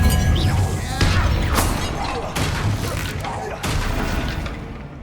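A disarming spell cast during a tomb fight in the video game Hogwarts Legacy, heard as a few loud crashing, shattering bursts with booming impacts, with game voices layered over them.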